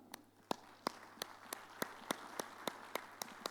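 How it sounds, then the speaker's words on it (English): Sparse, spaced claps at a keynote, single sharp hand strikes landing roughly every third of a second, faint and close with a steady low hum behind them and no talk. "So claps to you."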